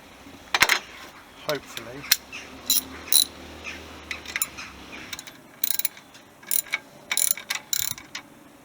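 Ratchet wrench loosening a bolt on a VW Golf MK2 engine during head gasket work: bursts of rapid metallic clicking in several short runs, close by, with faint talk in between.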